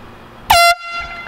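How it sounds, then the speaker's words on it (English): A single short, loud blast from an air horn tested indoors, a sharp piercing honk lasting about a quarter second against a quiet room. "So no liquid ass, but we got the air horn."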